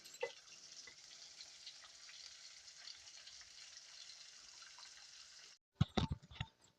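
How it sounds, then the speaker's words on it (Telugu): Fish pieces deep-frying until crispy in hot oil, a continuous soft crackling sizzle that stops abruptly near the end, followed by a few sharp clatters of utensils. "వీటిని మంచిగా క్రిస్పీగా ఫ్రై అయితే చేసుకున్నాం"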